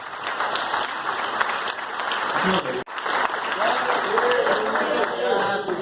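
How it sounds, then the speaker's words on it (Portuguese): A church congregation applauds in a thick, sustained roar of clapping that briefly dips for a moment midway, then swells back up, with voices mixed in. "Então aplaude o nome do Senhor por isso."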